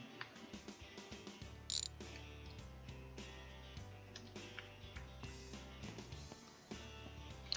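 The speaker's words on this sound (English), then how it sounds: "let's quickly grab our wrench and take off this worn brake line." A wrench works loose a worn brake line in the My Garage video game, giving a run of quick ratcheting clicks in uneven bursts over a steady tonal background.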